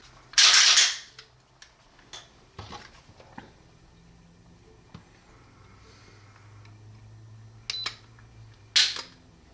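Several sharp clicks of a 9mm pistol trigger breaking on dry fire, a Buffalo Cartridge Company BRG9 Elite Gen 1 measured with a trigger gauge, with a loud snap at the start and another near the end, separated by faint handling ticks.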